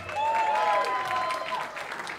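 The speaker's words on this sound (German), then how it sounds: "Applaus für die Svenja!" An audience at a band concert claps steadily for a guest invited on stage, a dense sustained round of applause with a voice ringing out over it.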